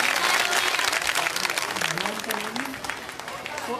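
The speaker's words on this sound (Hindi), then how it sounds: "हम लोग अब गाँव मतलब वासी के लिए खूब जोर से ताली बजाओ" Audience at a Bhagavat katha in Noida claps loudly and continuously, a dense patter of many hands that gradually eases, with someone speaking over it.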